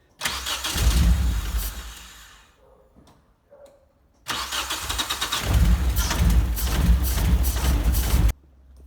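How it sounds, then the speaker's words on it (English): A car engine cranks after a fuel line and injector upgrade with ethanol-rated lines. It gives two long, loud bursts of starter churning that do not catch, separated by a quiet pause with faint clicks. "let me quickly just give it a crank and let's see what happens"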